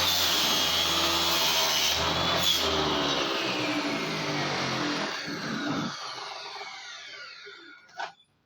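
A homemade table saw cuts wood at a 45-degree angle with a loud, steady whine and grinding bite that fades as the blade spins down, ending with a short knock.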